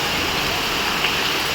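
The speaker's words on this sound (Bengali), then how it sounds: "ও, সেই বৃষ্টি নামছে।" Heavy rain pours down outside, a dense, steady hiss that holds evenly throughout with no breaks or gusts.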